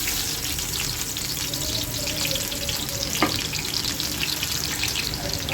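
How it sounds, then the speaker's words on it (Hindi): Sliced onion hits hot oil already seasoned with cumin seeds and curry leaves for a dal saag tempering, giving a loud, steady, close sizzle that hisses on without pause and with no voices. "तो ये ऑयल हमारा गर्म हो चुका है। तो इसमें अभी हम डालते हैं प्याज।"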